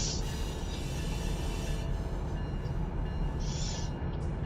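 An intermodal freight train rolls past in the Run8 train simulator game, a loud continuous rumble of wheels and cars with faint high squeals, no speech.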